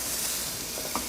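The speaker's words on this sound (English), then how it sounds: "Ooh, sizzle baby." Leg of lamb sizzles fat side down in a hot frying pan, a steady loud hiss and crackle filling the short moment with no talking.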